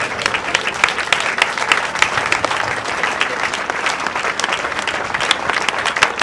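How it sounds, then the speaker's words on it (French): Sustained applause from a crowd at a funeral ceremony honoring an artist, dense continuous clapping throughout, fairly loud and steady with no break. "Acclamez fortement l'artiste"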